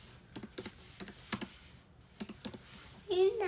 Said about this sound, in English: What mommy typing?